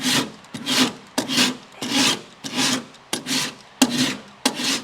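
A sanding block is pushed by hand across car body work in steady, even strokes, about eight rasping passes with brief pauses between them, close and loud with no talking.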